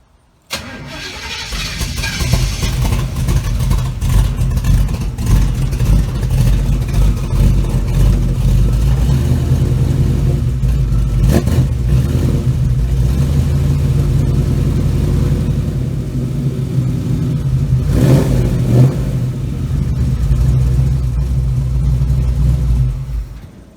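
A 1936 Chevy Coupe engine fires up and settles into a steady, even idle as it warms, running loud and close without pause for over twenty seconds.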